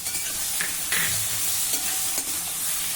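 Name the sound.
sautéing spice masala in a pan on medium heat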